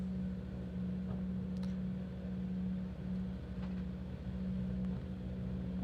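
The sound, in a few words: Toyota rally car engine on a rally stage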